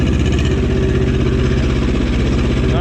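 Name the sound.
Cub Cadet 128 diesel tractor engine running in third gear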